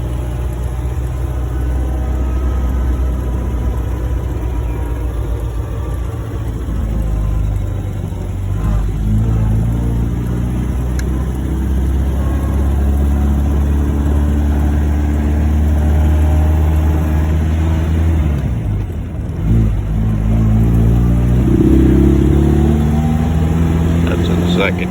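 A 1949 MG YT's engine pulls steadily in first gear, a loud, continuous mid-pitched drone with rising and falling revs, heard from inside the car while someone talks over it.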